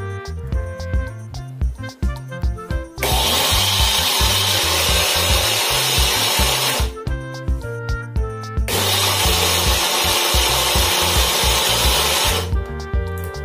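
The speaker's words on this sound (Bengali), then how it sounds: "এবার ভালো করে সমস্ত মিশ্রণটা ব্লেন্ড করে নেব" An electric blender's mixer jar whirs loudly, blending chocolate patishapta pitha batter with water, in two long sustained bursts separated by a brief pause.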